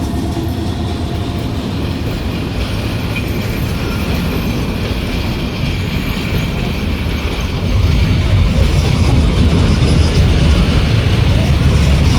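A passenger train travelling from Kishoreganj toward Dhaka rumbles along at speed, a continuous loud roar of wheels and carriage noise that grows heavier toward the end.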